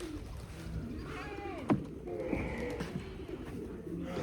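Pigeons coo softly in the background at a goat farm, low throaty calls rising and falling, with a faint knock partway through and a quiet ambient hum.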